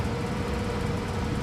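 A vacuum cleaner runs inside the Final Fantasy VII Rebirth game, a steady, even whirring drone with a low rumble that holds without a break.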